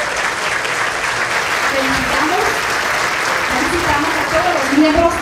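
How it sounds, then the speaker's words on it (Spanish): Steady, dense applause from a crowd at a municipal council swearing-in ceremony in San Pedro Sula, holding an even level throughout, with a voice faintly audible underneath. "Un fuerte aplauso, por favor."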